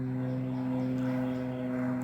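Steady propeller drone of a small plane overhead, a constant low hum with strong tonal bands, no voices.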